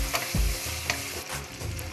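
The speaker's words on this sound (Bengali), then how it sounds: "চপ করে রাখা টমেটো কুচিটা দিয়ে দেব। আবার একটু নেড়ে চেড়ে নেব।" Chopped tomato is stirred into a frying pan while making muri ghonto with mung dal. A spatula scrapes and knocks in a few irregular strokes over a continuous close sizzle, and no one speaks.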